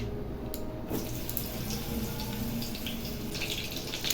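Eggplant fries lightly in raw oil in a pan, giving a steady, even hiss that continues with no talking.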